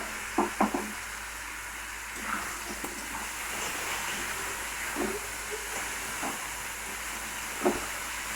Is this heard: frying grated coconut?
yes